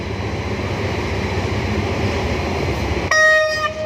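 A diesel locomotive, GE number 4533, rumbles steadily at a distance while pulling away from a station, then a bright, sustained horn blast with harmonic tones sounds near the end.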